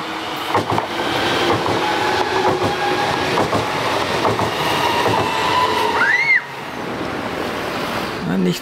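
A train passes on the Viersen–Venlo line near the Dutch border: a loud, close rush of wheels and carriages with rhythmic clatter, then a brief rising squeal as it fades away.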